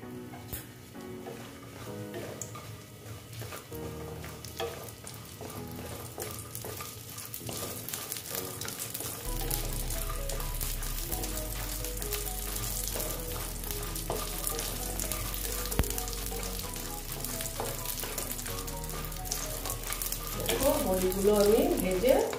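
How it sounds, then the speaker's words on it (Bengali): Lentil bori sizzle and crackle steadily in hot oil in a kadai, a dense continuous frying hiss that grows louder and busier partway through, with a low hum underneath. "দেখো আমি তেলটা দিয়েছি বড়িটা ভাজার জন্য"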